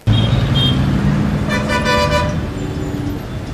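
A car horn toots loudly and close by over continuous road traffic, with the rumble of passing cars and buses underneath the honk.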